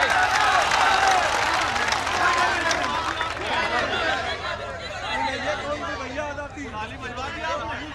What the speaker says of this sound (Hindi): एक बार तालियां बजा के इजाजत दे देना।